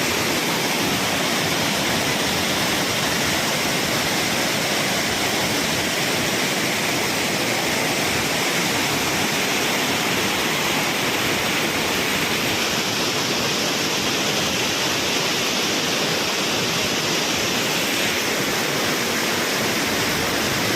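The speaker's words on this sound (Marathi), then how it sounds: "पाण्याचा असा खूपसा आवाज येत आहे" A loud, unbroken roar of water rushing over an overflowing dam pours continuously at close range, a dense wall of white noise with no voices.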